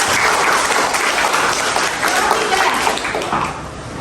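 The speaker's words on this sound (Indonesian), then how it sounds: "Beri tepuk tangan untuk kelompok 2." Classroom audience applauding a student group during a coaching session: loud, continuous clapping from many hands, close and even, easing off slightly at the end.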